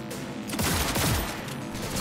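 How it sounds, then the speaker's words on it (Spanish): Rapid gunfire from Cyberpunk 2077 rattles out in a short, dense burst of overlapping shots, loud and close, lasting about two seconds. "Es una puta gozada disparar en este juego."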